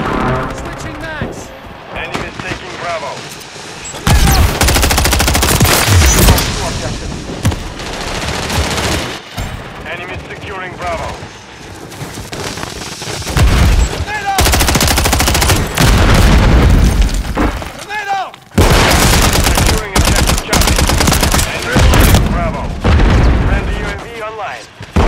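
Modern Warfare 3 multiplayer combat: loud, sustained gunfire and booming explosions in repeated dense bursts, with brief lulls between them, while radio-style voices talk over the battle.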